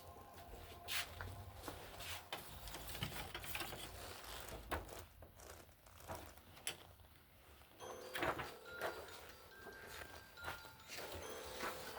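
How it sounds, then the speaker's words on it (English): A printer preparing to print color separations on transparent film for screen printing, heard as faint mechanical clicks, whirs and sliding rattles spread unevenly over several seconds, fairly close. "I'm gonna print this out"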